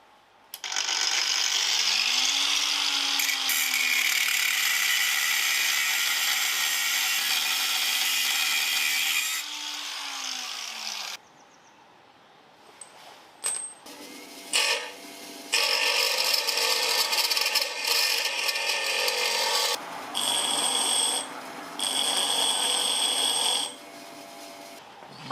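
A power tool slices through the heads of wheel bolts on a Suzuki Jimny JA22 under restoration. It makes a loud, sustained whining cut for several seconds, a pause with small clanks, then further long grinding bursts broken by short gaps.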